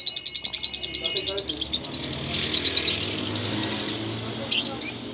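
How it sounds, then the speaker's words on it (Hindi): Lovebird breeder pairs chirp rapidly and repeatedly nearby in a steady run of shrill tweets, which thin out toward the end and give way to a few sharp final calls. "ये मैं आपको लव बर्ड के पेयर दिखा रहा हूँ।"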